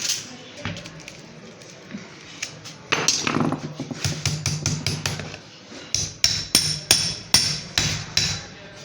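Sharp metallic hammer strikes drive iron laminations into a 12V UPS transformer, sparse at first then a rapid, regular series of loud close blows.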